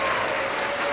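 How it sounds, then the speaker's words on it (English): Audience clapping at a school's end-of-year K–2 award assembly, a steady dense patter of many hands that stays loud for the whole moment. "now we're gonna all clap for you"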